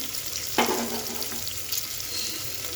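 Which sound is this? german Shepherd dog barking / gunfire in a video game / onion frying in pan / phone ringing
onion frying in pan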